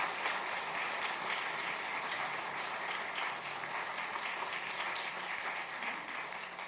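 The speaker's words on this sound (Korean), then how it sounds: "우리 새롭게 안수집사로 피택된 두 분에게 여러분 뜨겁게 격려의 박수를 해주시기 바랍니다" A church congregation applauds two newly ordained deacons at an ordination service, a steady, dense wave of clapping that holds evenly throughout, with no voices above it.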